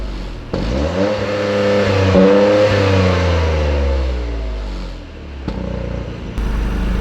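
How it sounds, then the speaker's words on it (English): A 2023 Toyota GR Corolla's three-cylinder engine cranks and catches, then revs up and settles into a loud, rising and falling rumble close by. "Let me go ahead and fire it up so you can see hear what it sounds like."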